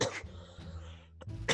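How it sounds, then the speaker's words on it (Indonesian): A single short cough from a person, close and fairly soft, followed by a brief throat-clearing sound. "aduh batuk nih"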